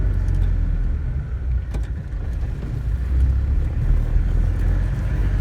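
A Mitsubishi L300 van drives along a flat road, its engine and road noise forming a steady, loud interior drone throughout with no speech.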